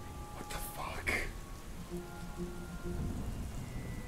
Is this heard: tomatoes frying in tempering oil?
no